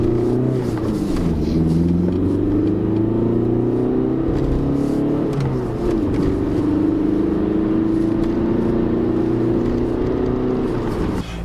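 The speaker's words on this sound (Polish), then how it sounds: "Ten silnik naprawdę ochoczo rozpędza ten samochód." A Volkswagen Passat B5 with the 1.9 TDI diesel accelerating from inside the cabin, engine note rising steadily through the gears with brief dips at shifts, a loud continuous drone with no talking.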